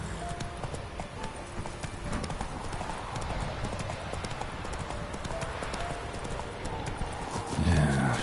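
A horse being ridden in The Witcher 3 video game trots along with steady, rhythmic hoof clip-clops close by, over a soft ambient game backdrop. A brief louder rustle near the end.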